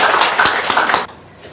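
Applause from a lecture audience greeting a pastor as he takes the stage for a special talk, a dense patter of clapping for about a second that then stops abruptly, leaving quiet room tone.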